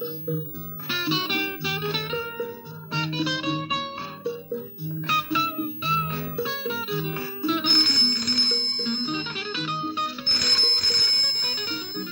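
A bright electronic telephone ringtone trills in repeated bursts with short pauses, steady and fairly loud, growing busier and higher toward the end, from a classic Bollywood film.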